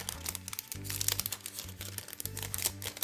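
Crisp crinkling of a thin plastic bag being handled up close while wrapping soaps, rustling in bursts over soft background music.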